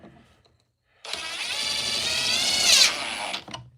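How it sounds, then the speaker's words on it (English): A power drill whirs steadily into wood for about two and a half seconds, pitch dipping as it bites, then stops; close and loud, no talking. "See where I'm drilling?"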